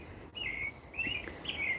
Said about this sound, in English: Birds are roosting, so it's gonna get loud.